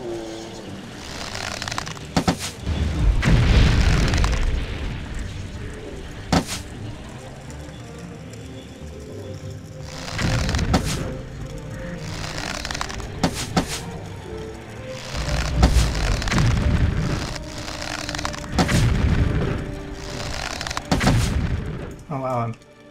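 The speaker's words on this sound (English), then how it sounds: "I'm causing these to explode in his face" Explosions in Morrowind, several heavy booming bursts spaced a few seconds apart, each with a low thump and crackling tail, amid quieter game sounds and someone talking between them.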